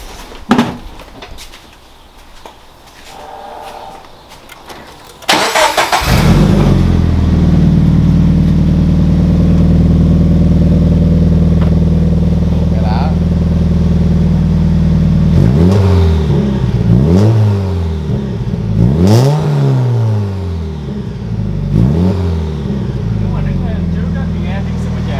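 A Toyota FRS engine cranks and fires up, settling into a loud, steady idle before several sharp revs rise and fall in quick succession, with a voice heard faintly beforehand.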